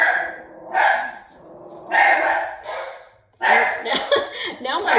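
Two dogs indoors, one of them deaf and blind, bark in loud, rough bursts separated by short pauses, the later barks coming in a quicker overlapping flurry.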